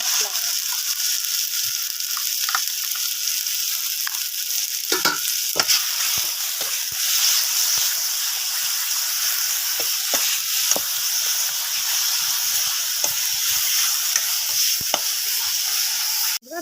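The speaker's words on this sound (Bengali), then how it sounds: "বন্ধুরা দিয়ে দেবো টমেটোগুলো একটুখানি ভেজে নিয়ে নেবো।" Tomatoes and spices fry in a pan with a steady, soft sizzle, broken by scattered clicks and scrapes of stirring throughout.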